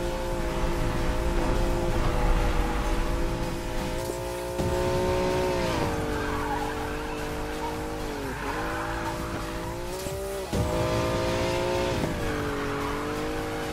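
A car drifting in Need for Speed Payback, its engine holding a steady droning note while tires squeal in long sustained screeches, with gear shifts and brief dips in pitch, loud and close throughout without talk.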